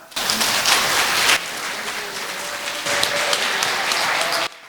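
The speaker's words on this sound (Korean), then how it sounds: "박수 많이 쳐주셔야 될 것 같지 않습니까?" Steady applause from the crowd at a Korean Buddhist Jogye Order 30th-anniversary grand dharma assembly after a master's address; dense clapping that dips briefly mid-way, then surges again before cutting off.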